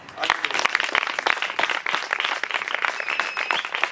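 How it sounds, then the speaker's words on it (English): A church congregation at a Sunday service claps their hands, dense clapping mixed with voices speaking and cheering over it, loud and continuous. "Clap your hand for yourself."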